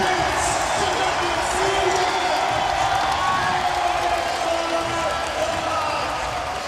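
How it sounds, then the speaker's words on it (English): At the SLS World Tour skateboarding final in Newark, New Jersey, a crowd roars in a steady, loud wash of cheering that never lets up, with a commentator talking over it. "And they are cheering him on."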